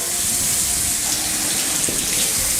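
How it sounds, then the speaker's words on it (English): Cold water pours steadily into a stovetop coffee pot just taken off the burner, a continuous close splashing rush lasting the whole moment. "put cold water"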